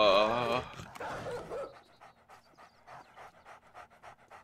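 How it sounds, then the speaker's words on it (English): Pack of dogs in the survival game 7 Days to Die, heavy rapid panting with whimpers and yips up close, loud at first then a steady rhythmic panting that carries on at a lower level. "Oh, like six dogs. Or seven dogs."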